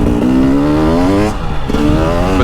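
A KTM 300 two-stroke dirt bike engine revs up loudly and steadily, its rising harmonic buzz close and continuous, with a short dip before it picks up again.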